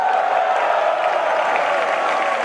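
A large audience at a business celebration event fills the hall with continuous, even applause and crowd noise, loud and sustained without pauses.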